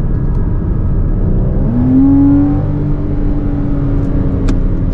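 A 2014 Porsche Cayman with a PDK gearbox is driven on a track, its engine a close, steady whirring drone with a rising pitch sweep mid-clip as it revs, heard alone.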